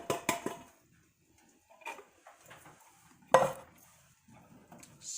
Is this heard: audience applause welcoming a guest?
no